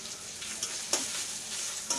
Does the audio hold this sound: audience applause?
no